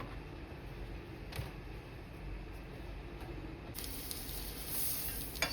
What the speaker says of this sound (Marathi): थोडंसं बटर मी अजून ॲड केलंय क्रिस्पी होण्यासाठी